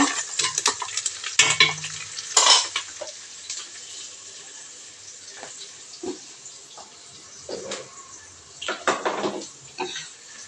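Onions frying in oil with mustard seeds and cumin for a soya rice, with steady sizzling and intermittent stirring scrapes and utensil knocks close by.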